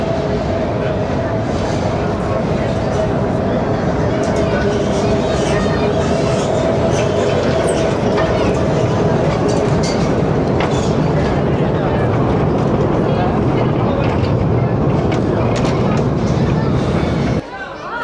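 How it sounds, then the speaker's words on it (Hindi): A mine train rumbles in steadily inside the Khewra Salt Mine, a loud, continuous low drone with faint rail clatter in an echoing space, while voices murmur underneath. "ट्रेन पहुँच गई वापस हमें लेने के लिए"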